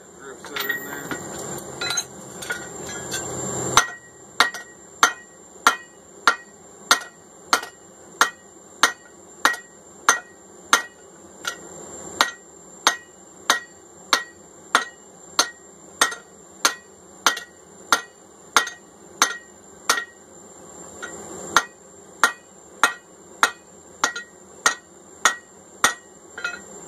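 Hammer striking a drift through the eye of a hand-forged hammer eye punch on an anvil, a long run of sharp, evenly spaced metallic clangs with ringing overtones, after a brief opening of louder mixed noise.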